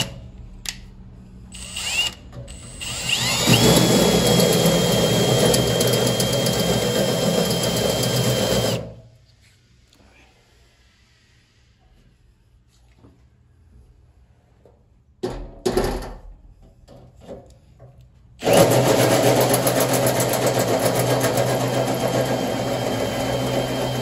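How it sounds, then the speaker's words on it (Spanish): Power drill boring a hole for a door lock, a loud high whine with revving bursts in the first part, a pause of near silence, then brief starts and a final sustained run. "entonces voy a continuar el barreno con este"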